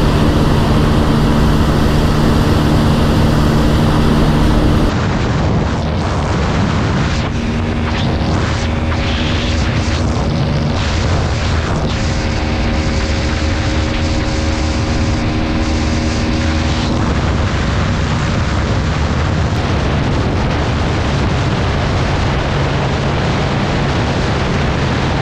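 Pulsar N150, Pulsar N160, TVS Apache 160 4V and Pulsar NS160 BS7 motorcycles race together, a loud, continuous roar of revving engines and rushing wind with rising and falling pitch, no talking.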